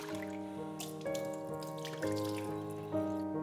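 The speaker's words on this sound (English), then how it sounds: "Rinse and drain 2 to 3 times to get rid of the excess starch." Water runs steadily into a sink with a soft splashing hiss as rice is rinsed under it, while music with sustained chords plays underneath.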